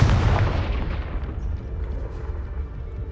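A Confringo fire spell blasting in Hogwarts Legacy: a single loud, deep explosive boom at the start, then a long rumbling decay that slowly fades, with no voices.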